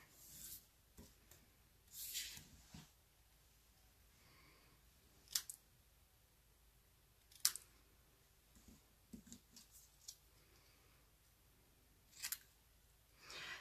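Soft, sparse snips of scissors trimming paper around printed words, scattered irregularly with quiet gaps between cuts, close but faint against a hushed room, with no talking.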